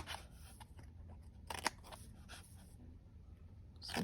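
Scissors snip and trim paper edges along a score line while making a squared-spine mini album, giving a few soft, close crunching cuts with a brief sharper snip in the middle.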